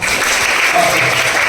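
A school sub-district camp audience gives a loud burst of applause for the administrators on stage, a brief, dense wash of clapping close to the microphone.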